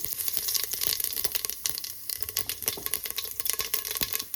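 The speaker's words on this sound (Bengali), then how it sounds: "লঙ্কাটা একটু ভেজে নিচ্ছি, দিয়ে দিচ্ছি একটা তেজপাতা, আর দিয়ে দিচ্ছি গোটা জিরে" Green chilli, bay leaf and whole cumin crackle in hot oil for a Bengali vegetable dish, giving a dense, steady sizzle broken by sharp pops and spatters at close range, with no talk.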